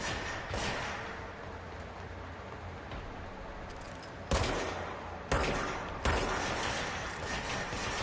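Enemy gunfire in the video game Control: dense, rapid bursts of shots crackle loudly throughout, with sharp fresh volleys breaking in near the end.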